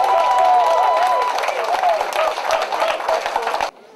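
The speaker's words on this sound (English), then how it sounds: "put hands and hearts together and clap for all of us" A live audience at a Blackstones reggae show claps in a loud, dense wash mixed with crowd voices and a brief cheer, then the sound cuts off abruptly.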